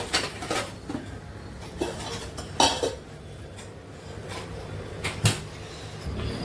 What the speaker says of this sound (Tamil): இப்போ இதை திறந்து பார்க்கலாம்